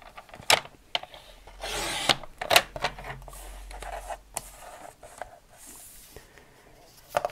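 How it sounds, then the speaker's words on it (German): Scissors cut paper close to printed words for a handmade sympathy card, making scattered sharp snips and soft rustling, close and quiet, with no speech. "Also schneide ich mir jetzt ziemlich nah an den Wörtern direkt so zu."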